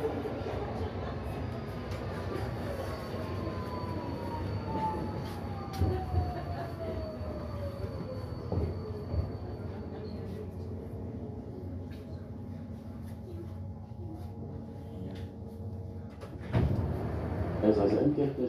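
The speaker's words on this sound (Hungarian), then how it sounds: "Ez az M2-es metró a déli pályaudvar felé." Budapest M2 line metro train (AM5-M2 stock) in the OpenBVE simulator, a steady mid-level rumble with a slowly falling motor whine and a brief swell near the end, under faint talk.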